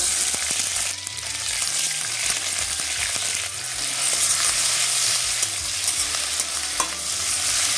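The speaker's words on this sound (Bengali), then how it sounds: "কড়াইতে দিয়ে দিচ্ছি সরষের তেল, হয়ে গেছে। তেলের মধ্যে দিচ্ছি আমি পেঁয়াজ।" Onions sizzle and crackle steadily in hot mustard oil in a kadai, with occasional stirring scrapes and a low rhythmic clatter from the pan throughout.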